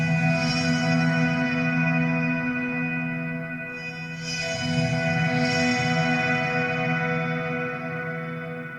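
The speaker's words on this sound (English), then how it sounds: "The first one is a acoustic simulated type sound for the harpy type noise" An electric guitar runs through a Headrush acoustic simulator for a harp-like synth tone, with sustained shimmering chords that swell and fade over several seconds, loud and steady with no talking.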